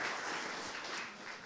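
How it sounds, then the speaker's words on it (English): A town hall audience applauds a panel, a steady, faint wash of many hands clapping that holds evenly and then eases slightly. "let's hear another round of applause for that panel"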